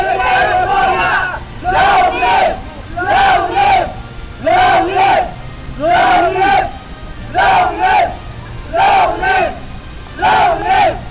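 A big crowd gathered near a bandstand roars in loud, rhythmic surges, about eight swelling bursts of massed voices rising and falling like a chant, close and filling the scene.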